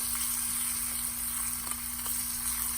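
Shallot and curry leaves sautéing in hot oil for a sambar tempering, a steady close sizzle and crackle with a faint constant hum underneath and occasional soft pops.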